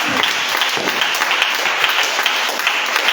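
A congregation claps and cheers together at a New Year's Eve church vigil, a dense continuous burst of applause with scattered louder claps throughout.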